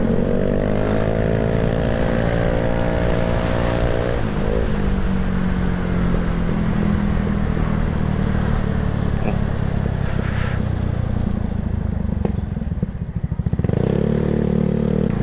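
A Yamaha Mio Sporty scooter fitted with an aftermarket Apido exhaust pipe runs close by, its engine droning steadily and rising in pitch as it revs, then settling to idle before revving again near the end.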